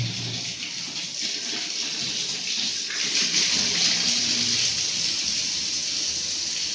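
A newly fitted mixer valve tap runs water in a steady, loud gush with a hiss, close by and unbroken, swelling slightly partway through.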